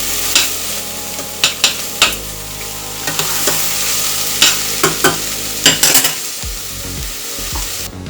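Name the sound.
garlic and onions sautéing, being stirred in pan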